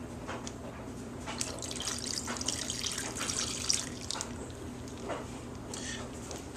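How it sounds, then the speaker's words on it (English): Extra marinade for homemade beef jerky is poured into a Ziploc bag, making a faint, brief liquid splash and trickle against quiet background hiss. "pour the extra marinade into the bag."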